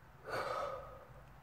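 A person yawns once, a single breathy, drawn-out exhalation heard close and fairly soft against a quiet room.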